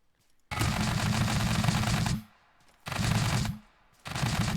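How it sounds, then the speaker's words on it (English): Machine gun fire in the video game Scrap Mechanic, three loud sustained bursts of rapid shots separated by short pauses, close and dominant. "Okay, we have machine gun"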